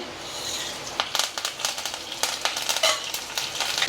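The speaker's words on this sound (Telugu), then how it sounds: "ఆవాలు జీలకర్ర కొంచెం మినపప్పు శనగపప్పు కరివేపాకు ఎండుమిర్చి అండి నూనె కాగింది వేసేస్తున్నా ఇవన్నీ" Mustard seeds, cumin, urad and chana dal, curry leaves and dried red chillies tempering in hot oil, made for foxtail millet idli: a steady close sizzle dotted with sharp crackles and pops, with no talking.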